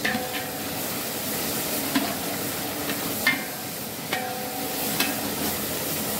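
Onion and tomato frying for borsuri dal in a hotel kitchen, a low steady sizzle broken by a few sharp clinks of a utensil against the pan, with no talking.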